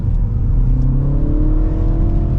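A 2025 Mini Cooper S Hard Top 2 Door Iconic accelerates at half throttle through tight turns on a twisty road. The engine hum climbs steadily in pitch over a loud, continuous low rumble from inside the cabin, with no talking.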